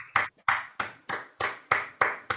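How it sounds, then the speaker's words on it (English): Sharp, evenly spaced hand claps ring out one after another, about eight in a steady rhythm at a presentation with an audience, each clap distinct and followed by a short decay, with no talking. "Everybody, one more round of applause."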